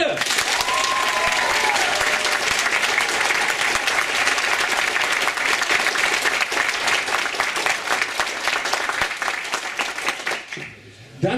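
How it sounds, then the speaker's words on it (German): A large audience breaks into loud, sustained applause at a voting event, a dense steady wash of clapping that holds for about ten seconds before fading sharply at the end. "ein Applaus für Claudia Kurz bei 1,"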